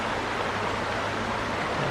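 Shallow Blue Water Creek in St. Joseph Park, Tennessee, flows in a steady broadband rush of water over a low, even hum, close and continuous with no voices.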